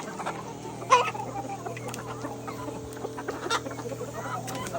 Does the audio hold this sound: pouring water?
no